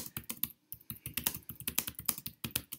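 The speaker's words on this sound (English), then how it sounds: "you type your text." Rapid, close typing on a computer keyboard, with quick uneven keystrokes clattering steadily for a few seconds with only brief pauses.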